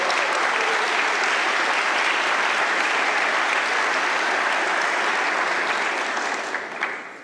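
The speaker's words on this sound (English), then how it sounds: "Can you do a huge round of applause," A conference audience at a lightning talks session gives a huge round of applause for the crew, dense and sustained throughout before tapering slightly at the very end.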